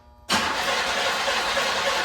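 A car engine cranks over steadily after a brief quiet start, a loud continuous starter churn that carries on to the end without catching.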